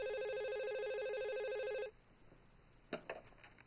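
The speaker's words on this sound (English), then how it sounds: "when the phone rang" A telephone rings with a steady electronic trill for about two seconds, then stops abruptly, leaving quiet room tone with a few faint clicks.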